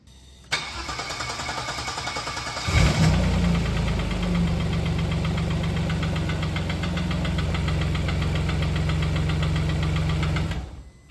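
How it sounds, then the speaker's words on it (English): A Vauxhall Omega V6 engine cranks and catches, then idles steadily with a rapid metallic ticking running over the low rumble until it shuts off. "I'm just going to hope that the ticking noise is just the oil needs to circulate"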